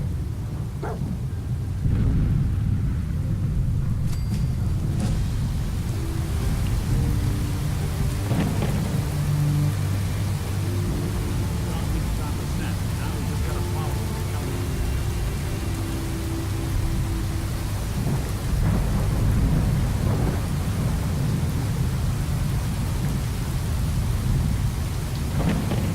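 Steady heavy rain pours throughout in a video game, with low rumbles of thunder rolling in and out; no one speaks.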